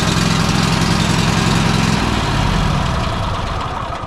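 A Kohler KT725 7000 series lawn mower engine with a smart choke runs loud and close, a steady rumbling idle that shifts slightly in pitch partway through, alone without talk.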